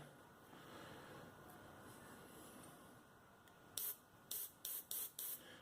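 A cheap Chinese airbrush sprays in short hissing bursts, five or so quick blasts over a steady low background hiss, close and fairly loud.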